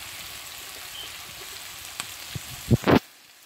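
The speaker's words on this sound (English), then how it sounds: "So we're just going to let this fry" Honey garlic chicken sizzles steadily in a hot pan, an even crackling hiss that carries through the whole stretch, ending with a couple of sharp clatters from the pan or utensil.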